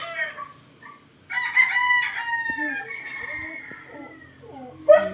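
A rooster crows loudly and close by, with hens clucking and other farmyard noises around it.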